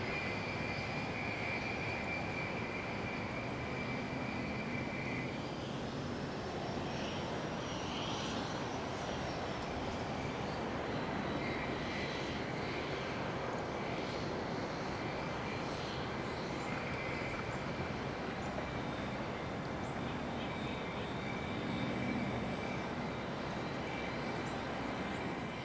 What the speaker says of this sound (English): the Union Pacific Maintenance of Way crew grinding away at the diamonds in Rochelle